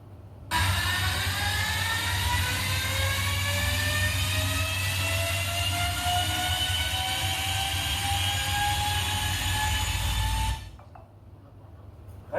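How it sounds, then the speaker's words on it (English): A steady electric whine from the Ultraviolette F77 electric motorcycle powertrain, with several rising tonal harmonics over a low rumble, holding for about ten seconds before cutting off abruptly. "That is the sound of our powertrain from the F77 platform."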